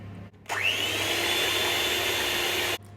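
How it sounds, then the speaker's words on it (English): An electric mixer whisks egg whites for a rhubarb and ginger pavlova, spinning up with a rising whine and then holding a steady, loud whirr for about two seconds before cutting off. "So get these whites whisked."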